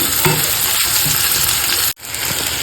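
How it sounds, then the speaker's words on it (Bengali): Onions frying in a pan for a quick home-style Bengali meal, a dense, loud sizzle up close with light stirring scrapes, cutting out abruptly for an instant before resuming. "পেঁয়াজটা ভেজে নিচ্ছি"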